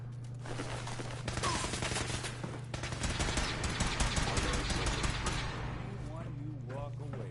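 Sustained automatic gunfire rattles through a firefight in the Fallout 4 video game, dense rapid shots under shouted in-game voices and a constant low hum.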